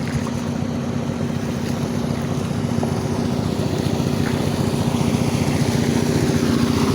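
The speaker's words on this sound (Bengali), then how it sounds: "ছোটো একটা নৌকা আসতেছে সামনে" A boat moves along the Titas river, its steady engine drone and water wash continuous and close throughout, with no talk.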